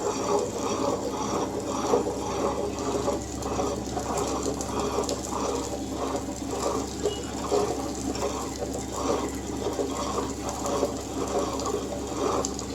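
A wet grinder churns urad dal batter with cooked rice in a steady, rhythmic mechanical rumble with regular pulsing thumps, continuous and close, with no voices.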